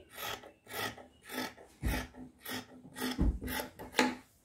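Scissors cut fabric along marked lines while a gown is altered, a series of about ten evenly spaced rasping snips close by, each a short crisp crunch.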